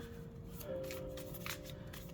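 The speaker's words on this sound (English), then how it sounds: "So it nicely overhand shuffles." Overhand shuffling of a mini tarot deck, a quick series of soft papery card flicks close by, with a faint steady hum underneath.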